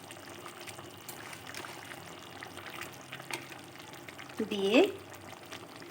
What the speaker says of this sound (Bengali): দেখো ঝোলটা ফোটা শুরু হয়ে গেছে। এবার আমি গুলটন গুঁড়ো উপর থেকে ছড়িয়ে দিচ্ছি